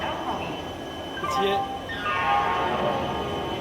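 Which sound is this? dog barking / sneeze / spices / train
train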